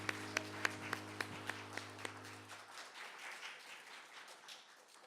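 A church congregation applauds after a hymn: a soft scattering of claps that starts as the held organ or keyboard notes fade out, then grows into a fuller, diffuse wash of applause.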